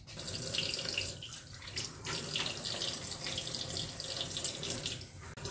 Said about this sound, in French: Ok, je vais rincer.